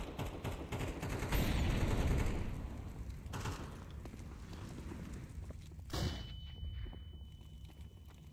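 Counter-Strike 2 firefight with a burst of loud gunfire and rumbling impacts early on, then a sharp flashbang detonation followed by a thin high ringing tone and muffled quiet.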